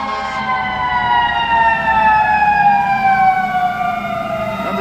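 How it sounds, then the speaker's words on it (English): A fire department ladder truck's siren wails loud and close as the engine roars up State Street in Chicago, its rising and falling tones sweeping continuously over steady traffic rumble. "Here comes a fire engine roaring up State Street."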